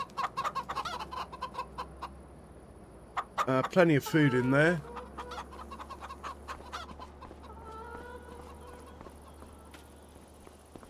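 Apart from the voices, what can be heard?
chickens clucking in Farming Simulator 25 video game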